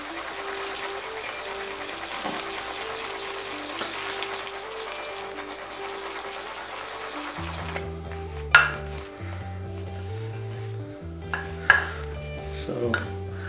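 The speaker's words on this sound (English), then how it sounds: "And then you can start lathering in the bowl." A 26mm Plisson shaving brush whips Citrus Tide soap into lather in a bowl, giving a steady wet swishing that gives way to brush taps and clinks against the bowl, over soft background music.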